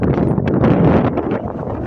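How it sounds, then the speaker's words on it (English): Strong blizzard wind roars and buffets the microphone in a continuous loud rush over a snowy parking lot. "See this wind."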